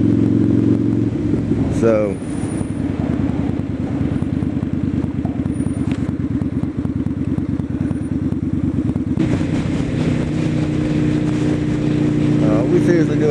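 A Yamaha Virago Interstate motorcycle cruises on the interstate at about 55, its engine drone and wind rush loud and continuous, with a brief spoken word early on.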